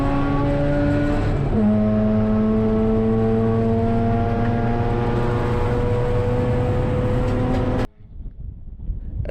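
Mazda RX-8 cup race cars at a Florida track roar through a sweeping corner toward a straight in a sustained, loud, high-revving drone that holds its pitch, then cuts off abruptly near the end.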